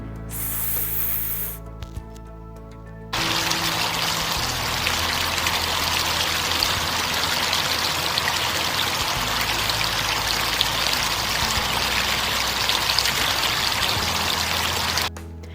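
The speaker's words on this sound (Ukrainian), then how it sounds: "Давайте з вами промовимо, як дзюркотить струмок." Steady rushing, trickling water of a small spring stream flowing continuously and loudly for most of the stretch, preceded by a brief tonal passage, with no talking.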